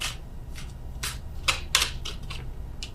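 Tarot cards being shuffled and drawn from a deck, a series of quick, close, crisp papery flicks and snaps in an irregular rhythm over a quiet low hum.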